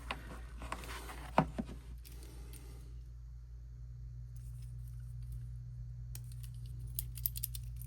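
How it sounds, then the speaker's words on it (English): A small Zerobaseone keycap clicker gives a few sharp plastic clicks early on, then softer scattered clicks near the end, all over a steady low hum. "We have the little key clicker."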